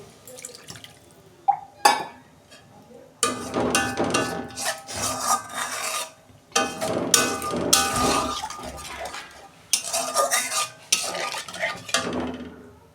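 Water is poured into oil-released fried spices in a pan for a Bhola fish curry. Bursts of wet scraping and stirring against the pan come in uneven waves, with brief quiet gaps between them.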